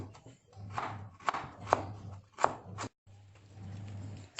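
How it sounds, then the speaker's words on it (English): A knife slices through galangal on a cutting board, a run of sharp, close chopping taps at an irregular pace, each with a crisp attack, with a brief pause before the cutting resumes. "Slices galangal."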